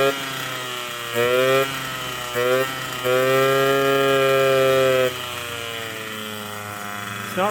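A 1979 Suzuki JR50 minibike engine holds a high idle close by, broken by several short throttle blips that raise the buzzing pitch before it settles back.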